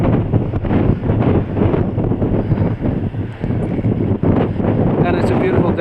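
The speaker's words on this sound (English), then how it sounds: "It's a bit breezy." Strong wind buffets the microphone on a hillside above Lusty Glaze beach at Newquay, Cornwall. Loud, steady, gusting rumble and roar fill the whole stretch, with a voice faintly mixed in.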